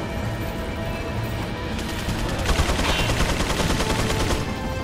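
Rapid, loud bursts of automatic gunfire with crashing impacts in the video game Resident Evil 4, continuous and intensifying midway, with no voices heard.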